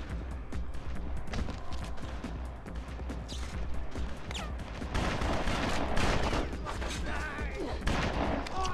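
Gunfire in the Bloodrayne video game, rapid shots and bursts crackling over a busy, cluttered game soundscape, fairly quiet overall with louder clusters toward the end.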